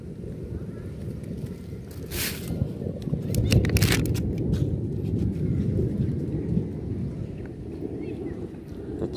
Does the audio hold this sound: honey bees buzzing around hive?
no